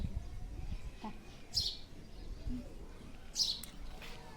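Two loud, high peacock calls ring out a couple of seconds apart, rising above a low rumbling outdoor background with faint chirps.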